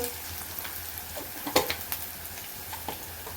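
Food sizzles and fries in a pan while being stirred, with a steady crackle and a few sharper scraping clicks of the utensil against the pan.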